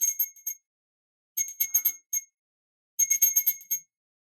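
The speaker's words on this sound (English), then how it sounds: "I am going to ring this bell 3 times" A bright handheld bell rung in three separate bursts, each made of several quick clear dings that fade into silence between them.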